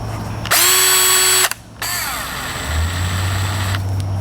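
A power drill whirs at a low speed, stops briefly, then runs again with a steady whine, close and fairly loud.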